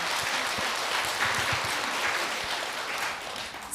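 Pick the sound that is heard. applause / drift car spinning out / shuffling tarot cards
applause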